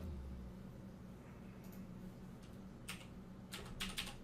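Light typing on a computer keyboard at an Ubuntu terminal, with a few scattered, faint key clicks over a low background hum.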